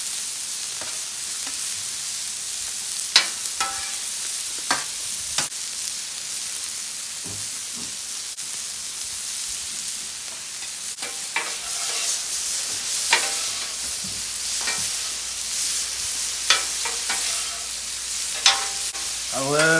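Broccoli sizzles on a hot Blackstone griddle alongside ribeye, lobster, shrimp and scallops: a steady hiss of frying with repeated sharp scraping and clinking strokes of a metal spatula, up close.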